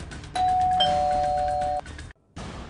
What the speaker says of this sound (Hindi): वो शैतान डोरबेल बजाता है,